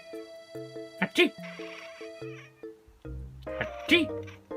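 A house cat lets out a couple of rising, strained meows reacting to a person's sneezes, close and fairly loud over a steady background of tones and faint talk.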